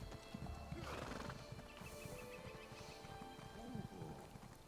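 Horse neighing and hooves clip-clopping in the Elder Scrolls Online video game, a whinny and steady hoofbeats over background game music with a voice talking over it.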